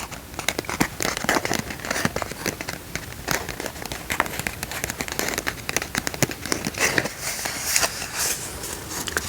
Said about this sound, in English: The first thing I see is this little gold envelope.